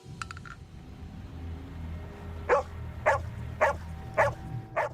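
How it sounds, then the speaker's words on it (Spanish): A female dog barks agitatedly in a forest, giving five sharp, evenly spaced barks at mid distance over a low rumbling background, after a few faint high yips. "Empezó a ladrar y parecía estar angustiada."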